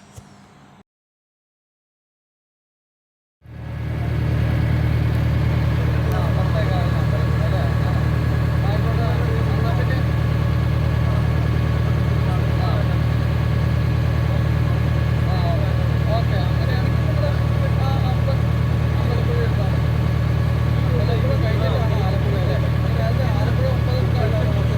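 A boat engine on the Kuttanad backwaters kicks in after a short silence and then runs steadily, a loud, even low drone that holds unbroken to the end.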